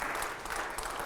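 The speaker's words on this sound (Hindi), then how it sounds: "चलिए अगले सवाल से पहले जोरदार तालियां हो जाएं" Brief, dense applause from a studio audience on a televised political debate show, a short burst of clapping at moderate loudness.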